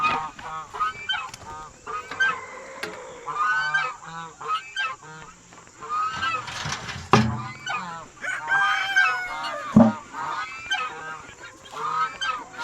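Geese honk repeatedly at close range on a homestead, a raucous flock calling in overlapping bursts, with a few louder thumps partway through.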